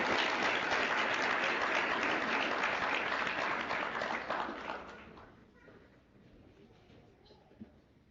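Loud, dense applause from a large audience at a white coat ceremony, steady for about five seconds and then thinning to scattered claps and quiet.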